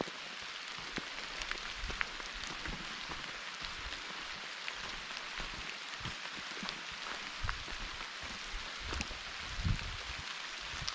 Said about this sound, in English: pouring down rain is not ideal